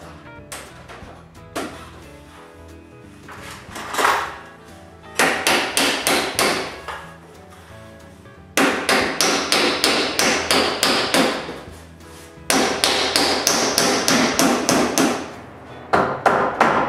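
Hammer blows drive a wedge that pushes wooden planks tight together on a workshop interior wall. Loud, close strikes come first in a sparse scatter, then in fast rhythmic bursts of repeated blows separated by brief pauses.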